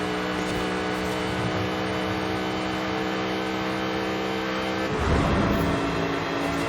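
In Forza Horizon 5, the supercharged V8 of a 2005 Ford GT holds a steady, high-pitched whining drone. Near the end it drops sharply and growls back up as the car slows and reaccelerates, with no voices.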